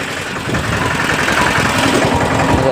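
A tractor engine runs at steady idle, a close, loud, low mechanical chug with continuous vibration that swells slightly after the first half second and holds evenly, with no voices.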